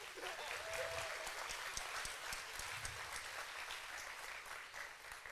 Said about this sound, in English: Let's get a round of applause for getting on stage.